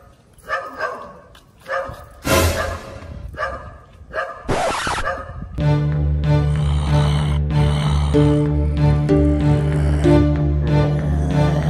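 A dog yelps and whimpers in short bursts in a Plants vs. Zombies video game, then a steady droning hum with music-like tones takes over, loud and continuous.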